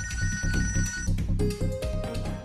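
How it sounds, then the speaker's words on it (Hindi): A telephone rings repeatedly in a steady electronic ring pattern, loud and close, with background music or tones underneath and no talking. "मम्मी का फोन"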